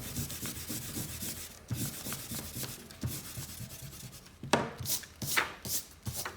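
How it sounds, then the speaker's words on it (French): Eraser rubbing out pencil construction lines on paper, a faint, close, scratchy back-and-forth scrubbing in quick rhythmic strokes, with a few sharper brushes toward the end and no talking. "on gomme ensuite du coup nos traits de construction"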